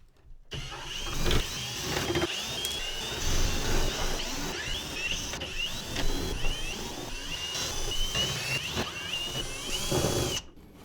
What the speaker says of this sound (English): we're going to start with undoing a lot of screws